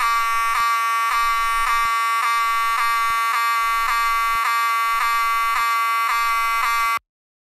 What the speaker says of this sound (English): Oh no, not again! Not the fire alarm.